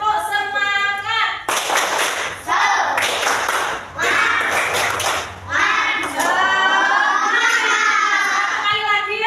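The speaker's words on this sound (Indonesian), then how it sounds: "Yuk, tepuk semangat." Children join in a rhythmic spirit clap, bursts of clapping and shouting in a busy classroom crowd between stretches of an adult voice leading, fairly loud and close.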